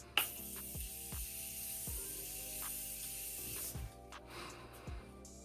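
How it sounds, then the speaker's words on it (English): A Morphe setting mist spritzes onto a face in a series of short, soft hissing bursts, close but quiet, with a few crisp sprays spaced about a second apart over faint background hum. "Then the icing on the cake is my Morphe setting mist, and I will just spray that everywhere."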